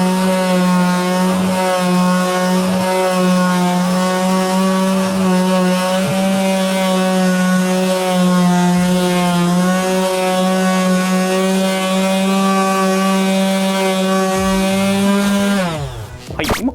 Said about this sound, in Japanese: まずはじゃあいつも私が使ってるこのボッシュの、オービタルサンダーですね、こちらの方から削っていきたいと思います